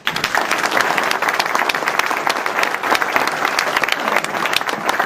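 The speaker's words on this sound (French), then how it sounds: "Merci Liliane, on peut l'applaudir bien fort." An audience at a 2011 stage show applauds loudly and steadily, a dense wash of many hands clapping that keeps up without a break.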